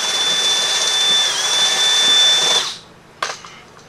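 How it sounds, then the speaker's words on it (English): Power drill boring a hole through the door sill of a 2011 Camaro 2SS, a loud steady high whine for under three seconds that cuts off, then a brief clunk. "I'm going to drill a hole through here."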